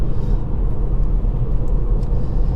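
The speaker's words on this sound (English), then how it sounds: "So we've got the power in second gear to get past it, rev it all the way through." A Ford Fiesta ST-Line X 140 is revved hard through second gear to overtake a lorry on a country road, giving a steady, loud, low engine drone and rumble with no talk.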